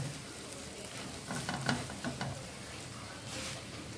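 Dosa sizzling on a hot pan just after being flipped, a steady faint frying hiss with a few soft crackles and pops, close and continuous with no talk.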